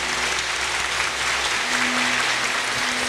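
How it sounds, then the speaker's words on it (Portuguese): Steady audience applause at the Festa do Colono festival in Indaial, dense clapping that keeps an even level throughout, with faint tonal hum low underneath. "Acho que eles merecem uma salva de palmas."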